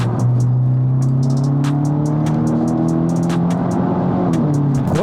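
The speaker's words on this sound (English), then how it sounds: "I can hear some nice sort of crackles at the back." A tuned Stage 2 BMW F30 330e accelerates hard, a loud, close engine drone rising steadily in pitch with sharp exhaust crackles and pops scattered throughout.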